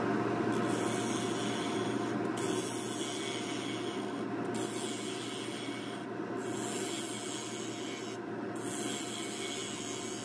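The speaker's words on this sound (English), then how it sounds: "getting back to hollowing out the inside of the bowl here. Increase the speed to around 1100 here." A wood lathe spins at about 1100 rpm while a gouge hollows the inside of a maple bowl, giving a loud, steady scraping roar with brief periodic dips as the tool lifts, with no talk.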